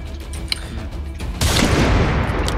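Rapid gunfire hammers a wall in an online server-war shooter game, a sudden dense, loud burst of shots and impacts that holds steady after a quieter stretch of background game noise.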